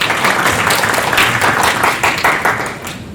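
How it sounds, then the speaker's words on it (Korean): Audience applause at a tech conference session on NHN Cloud's move of OpenStack from CentOS to Ubuntu, a dense, steady wash of many hands clapping that fills the room for about three seconds, loud and close, with no talk over it. "박수 한번 부탁드립니다."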